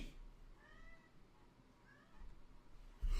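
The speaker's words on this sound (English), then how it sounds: "Kitty!" A cat meows twice, two short rising-and-falling cries about a second apart, faint against a quiet room hum, followed by a brief louder bump at the end.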